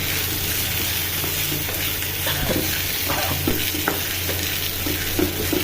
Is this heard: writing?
no